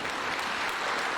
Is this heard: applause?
yes